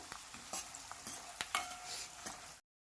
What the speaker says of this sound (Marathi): शेंगदाणे 1-2 मिनिट छान तळून झाले तर आता यामध्ये आपल्याला फुटाण्याचं डाळ टाकून घ्यायचं